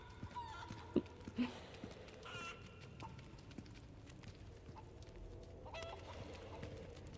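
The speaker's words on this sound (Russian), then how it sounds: "Там-то петух." A rooster clucks in the video game Resident Evil 4 Remake. A few short, sparse clucks and small knocks sit over quiet game ambience.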